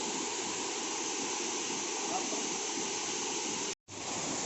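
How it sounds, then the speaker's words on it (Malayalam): Alakapuri waterfall at Kanjirakolli roars in a steady, dense rush of falling water, loud and continuous, cut by a brief dropout near the end. "കാഞ്ഞിരക്കൊല്ലി അളകാപുരി വാട്ടർഫോൾസ് നമ്മൾ എത്തിക്കൊണ്ടിരിക്കുകയാണ്"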